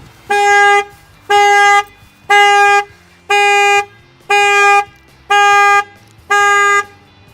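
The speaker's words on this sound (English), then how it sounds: "The factory alarm will go off," A 2017 Chevy Camaro's factory alarm sounds, blaring its horn in seven even, evenly spaced honks, loud and close, with nothing else heard.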